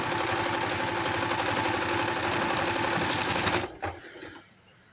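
A sewing machine runs in a steady, fast stitching rhythm while hemming a folded palazzo pant leg, then slows and stops near the end, leaving a faint hum.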